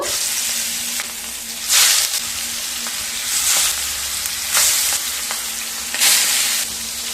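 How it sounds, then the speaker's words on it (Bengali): Pieces of rui fish fry in hot mustard oil in a pan, giving a loud, continuous sizzle with periodic surges of crackling, and no talk. "এবার মাছগুলোকে ভেজে নেব"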